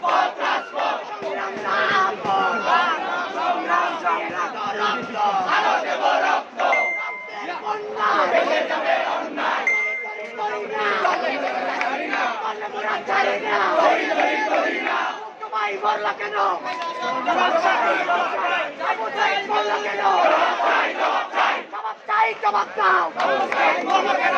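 Crowd of students chanting protest slogans in unison, loud and sustained throughout, shouted call-and-response rhythm over a dense mass of voices at a street confrontation in Cumilla.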